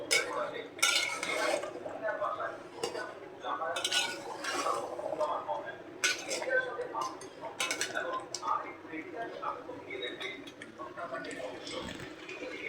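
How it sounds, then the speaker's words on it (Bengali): Chicken sears in a pot beside potatoes, pointed gourd and papaya, with repeated metal scrapes and clinks of a spoon stirring over a low sizzle, close by, while a voice talks intermittently. "পাতিল চেঞ্জ, মাংসটা কষাইতেছি।"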